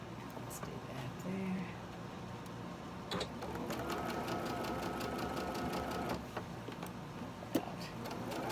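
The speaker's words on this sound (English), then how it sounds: "Let's sew it first." A sewing machine stitches a quilt seam on a Halloween mystery sew-along project, a steady close mechanical whir with rapid needle chatter running throughout, with a voice talking over it.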